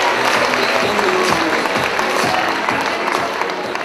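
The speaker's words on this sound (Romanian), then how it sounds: "Să aplaudăm pe Roxana!" Applause from a school audience at a freshman ball at Colegiul National Unirea in Focsani, steady and dense throughout with a low murmur of voices underneath.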